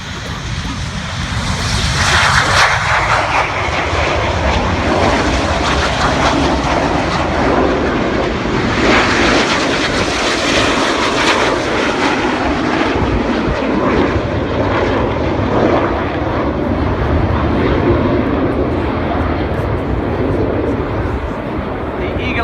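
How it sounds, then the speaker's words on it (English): Red Arrows jets roar past on a display takeoff at the RAF Scampton air show 2017, a loud, sustained, rushing engine roar that holds for over twenty seconds and fills the air. "I'll let you hear the jet noise"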